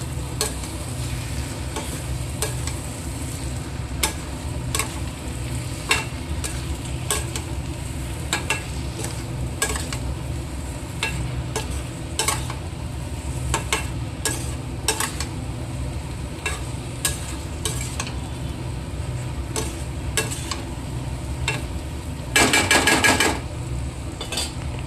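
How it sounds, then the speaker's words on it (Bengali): Potatoes are sautéed in a pan and stirred, a continuous sizzle punctuated by many crisp clinks and scrapes of the spatula against the metal, with a brief louder burst of frying near the end. "এই যে আলুগুলো দিয়ে দিচ্ছি, আলুগুলো এবার দিয়ে কষাবো।"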